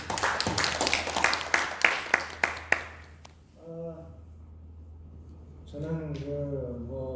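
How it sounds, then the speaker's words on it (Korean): Congregation clapping at a church revival meeting, a quick burst of rhythmic claps in the first three seconds that fades, followed by a person speaking. "박수."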